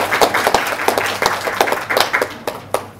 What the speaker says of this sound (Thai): ขอเสียงปรบมือต้อนรับท่านด้วยนะครับ